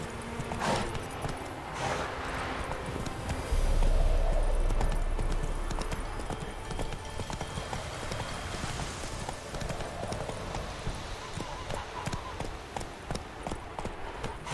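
Horse hooves clip-clop in The Witcher 3 video game, a steady rhythmic trot of close footfalls that continues throughout, with a brief louder surge partway through.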